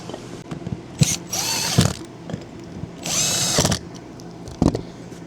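A power drill drives screws into an aluminum roof vent cover on an RV roof in two loud whirring bursts of about a second each, separated by clicks and handling knocks, close up with no talk.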